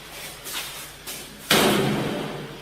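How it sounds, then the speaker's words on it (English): A door is pushed shut with a few soft swishes and then a single solid slam that rings out briefly. "Shut that door."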